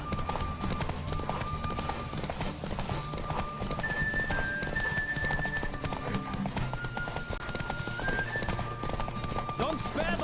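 Rapid hoofbeats of a galloping horse in The Witcher 3: Wild Hunt over a steady rumble, with a whinny or two and someone talking over the action.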